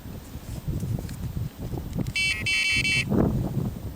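A radar detector's rapid electronic beeping burst rings out for about a second over a low background rumble with scattered soft knocks.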